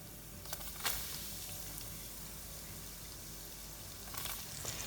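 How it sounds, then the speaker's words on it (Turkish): Steady, close sizzling of Albanian-style fried liver frying in a pan, a continuous crackling hiss with a few brief pops and no voices. "Ciğerlerimiz kızarmaya başladılar"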